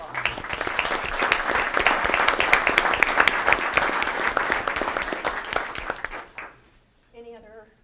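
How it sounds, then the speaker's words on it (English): Applause at a city council meeting for a scholarship recipient, a dense, sustained crowd of clapping that fades out after about six seconds, followed by a brief voice. "Let's give her a round of applause."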